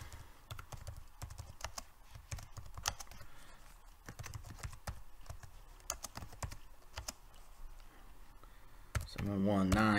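Steady, close typing on a computer keyboard while entering name and address details for a formatted paper, with rapid irregular key clicks throughout and a voice speaking over the end.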